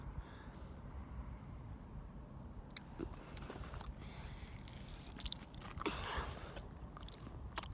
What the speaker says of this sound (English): Probably gonna eat it right now. So I'll eat it.